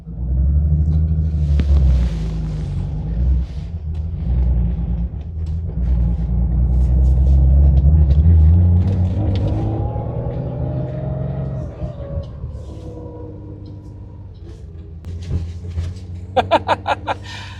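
A 53-year-old Porsche 911-T engine turns over and settles into a deep, throbbing idle that swells and fades, with a few sharp clicks near the end.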